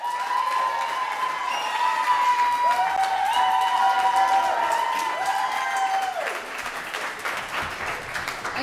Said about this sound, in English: let's all give it a round of applause for the candidates for presidency